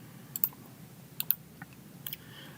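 A few crisp, quiet computer mouse clicks, single and paired, spaced over a steady low room hum during work in AccuMark 3D pattern software.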